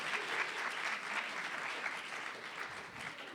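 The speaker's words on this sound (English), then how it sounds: "They clap for you" An audience applauding a recited poem at a youth session, steady dense clapping from many hands throughout, even in level and fairly distant, with no talking.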